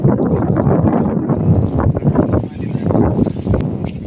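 Strong wind blows and buffets the microphone in a continuous low, rumbling roar that rises and falls in gusts.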